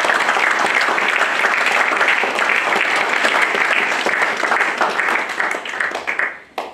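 Congregation at a French-language church service applauding to acclaim Jesus Christ, steady dense clapping sustained for several seconds before tapering off at the end.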